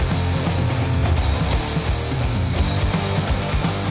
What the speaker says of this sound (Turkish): Şimdi ilk zımparayı attık bayağı parladı.